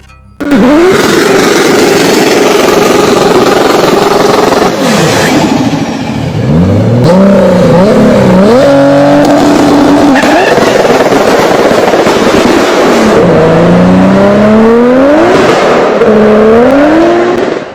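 A 1999 Nissan Skyline GT-R R34 engine revs loudly and close, rising and falling through repeated throttle blips and sweeping pitch climbs, with no speech over it.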